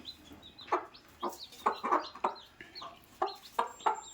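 A hen that has hatched a brood of chicks clucks repeatedly in short, close, moderately loud bursts, with irregular pauses between calls and no talking.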